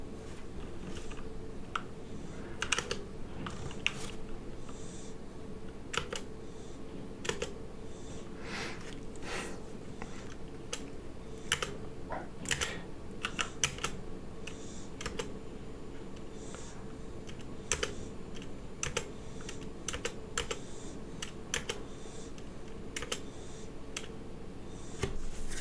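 Steady keyboard typing on a computer running Slackware 3.0, a close, continuous run of crisp key clicks with occasional louder strokes over a low background hum, no talking.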